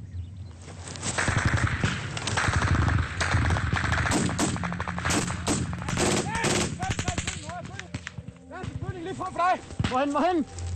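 Bursts of rifle and machine-gun fire from Danish troops in combat in Afghanistan, loud and close, with shouted soldiers' voices over the shooting.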